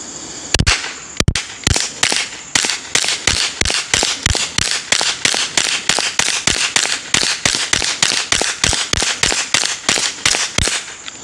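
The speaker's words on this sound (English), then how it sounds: "Let's see if it'll run these. If it does, these will be subsonic." A firearm shooting subsonic rounds fires a long, fast string of sharp, evenly spaced reports, about thirty shots in quick succession, close and loud with no talking.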